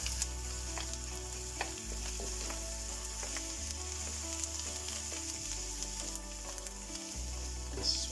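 Ginger-garlic paste and coriander stalks sizzle in a pan, stirred with soft scrapes over a constant frying hiss and a low steady hum, with no one speaking.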